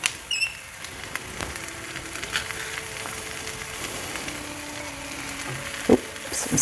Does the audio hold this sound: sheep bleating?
no